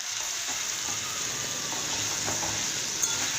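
Garlic paste fries with potatoes in a pan, giving a steady close hiss and sizzle with a few faint stirring scrapes and one small clink near the end, with no speech.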